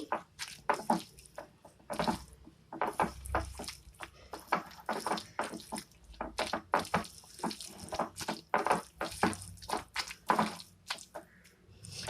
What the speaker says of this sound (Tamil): இப்போ நல்லா கையால் நல்லா மிக்ஸ் பண்ணிப்போம், எல்லா பூலையும் படுறது மாதிரி.